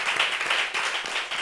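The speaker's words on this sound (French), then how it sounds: "Est-ce qu'on peut applaudir cet avis, s'il vous plaît?" A studio audience on a French family talk show claps in a brief, steady patter of applause lasting under two seconds, fairly faint.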